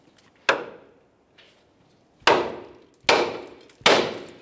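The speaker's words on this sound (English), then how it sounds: "Continue on with a hammer. We're gonna give the knuckle a couple loving bonks" A hammer strikes the steering knuckle of a Nissan Titan four times to free the upper ball joint, sharp heavy bonks with a short ring, one alone then three in quicker succession, close up.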